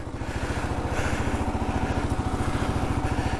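Kawasaki KLR650 single-cylinder motorcycle ridden off-road on single track, its engine thumping in a fast, steady pulse that swells slightly and holds, close and loud.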